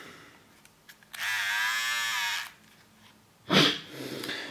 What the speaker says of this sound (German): das ist der Rasierapparat